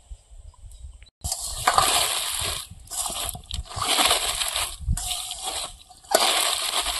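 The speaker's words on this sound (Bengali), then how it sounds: "আমি এটা লবণ দিয়ে প্রথমে ভালো করে চটকে মেখে রেখে দেবো কিছুক্ষণ" Half a head of shredded cabbage squeezed and kneaded by hand with salt in a kitchen, heard as close, wet crunchy squelching in repeated bursts, fairly quiet, with no talking.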